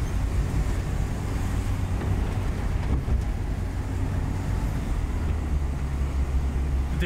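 A Toyota KE70 Corolla fitted with a 4AG-E engine drives along, a low, even cabin rumble of engine and road noise that stays quiet and steady throughout.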